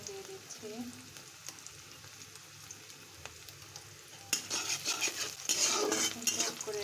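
Garlic, onion and dried chili frying in oil with salt added, a quiet sizzle at first that swells into loud, crackling frying with clinking stirring in the last few seconds.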